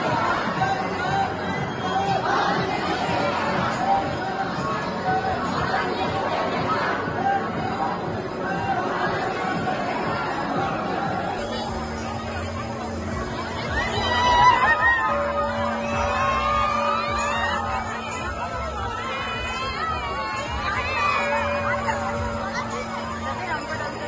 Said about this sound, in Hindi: आप देख सकते हैं कितनी भीड़ है।